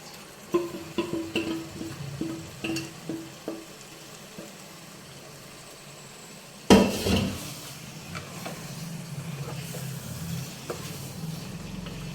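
Raw chicken pieces for butter chicken curry dropped into a hot clay pot, setting off a sudden loud sizzle that settles into a steady frying hiss, following a few earlier knocks and stirring clatters.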